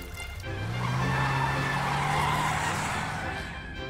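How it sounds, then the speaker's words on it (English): A cartoon car drives off with a sustained tire squeal and skidding over a revving engine, loud and close for a few seconds before fading slightly. "Puccini, it's time for our after-dinner drive."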